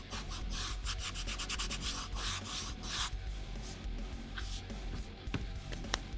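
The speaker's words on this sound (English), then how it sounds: "I took some 80 grit sandpaper and I just kind of roughed up the area" A foam prop machete is roughed up with 80 grit sandpaper, giving quick, rhythmic back-and-forth scratchy strokes up close, then slower, scattered rubbing.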